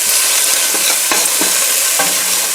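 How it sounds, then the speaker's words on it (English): Collard greens and chickpeas sautéing in a pan over heat, a steady loud sizzle broken by several distinct stirring scrapes and clacks, close and continuous with no talk. "saute for 2 minutes"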